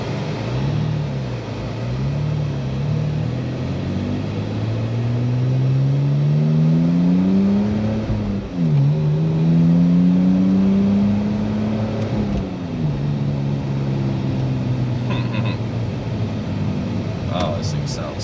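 BMW E46 engine revving in Cuba, its pitch sweeping up and down through several rising and falling climbs, loud and close, ending in a few sharp clicks.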